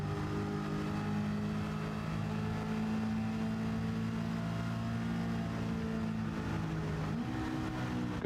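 A race car with a 350 engine drones steadily in a racing video game, holding a sustained pitch before a gear change near the end, with no voices.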